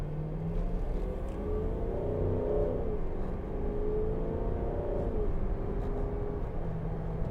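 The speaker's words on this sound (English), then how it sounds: "Now, that sounds pretty good, doesn't it, for a diesel engine?" A 2012 Range Rover TDV8 diesel in sport mode pulls away with a steady low engine drone, the pitch rising and settling through gear changes under continuous road rumble.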